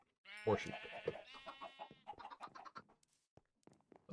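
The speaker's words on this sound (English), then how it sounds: "There you go. More sheep." Sheep bleating in the Minecraft video game, a few short wavering harmonic calls near the start, followed by quieter game sounds and occasional faint clicks.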